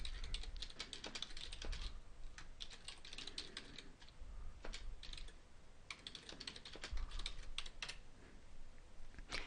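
A select statement is typed on a computer keyboard to query an Oracle database, producing a steady run of quick, close, fairly soft keystrokes with brief pauses and no talk.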